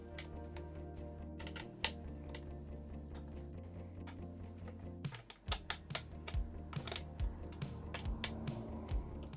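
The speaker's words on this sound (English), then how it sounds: "Let me just tighten up some of the screws." Small screws being tightened on a DIY Stream Deck build, heard as a steady run of light clicks and taps close by, with a few sharper knocks in the second half.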